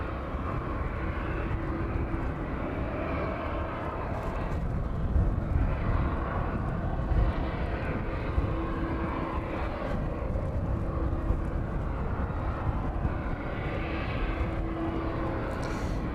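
Jet2 passenger airliner approaching East Midlands Airport from the south, inbound from Krakow, its engines a steady, broad roar that rumbles on continuously for the whole stretch without any talk.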